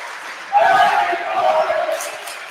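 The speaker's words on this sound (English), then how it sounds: "the student section up and cheering again." A high school volleyball student section at a General McLane at Warren match erupts into loud, sustained cheering and shouting that swells suddenly and holds, with a voice on top.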